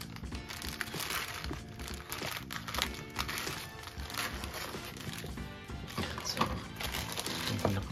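Crinkly plastic packaging from a Banpresto Glitter and Glamours Eternal Sailor Moon figure and its stand is handled close up, with continuous rustling and crackling at low volume.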